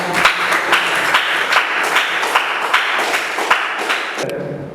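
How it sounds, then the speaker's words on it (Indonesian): A classroom of students claps together in a steady rhythmic beat, loud and close, the regular claps continuing for several seconds before stopping abruptly. "Beri tepuk tangan"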